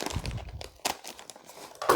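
Scissors snip into a plastic moisture absorber bag that is then torn open, giving a few short crinkling, tearing rustles and one sharp snip near the end, close and fairly quiet.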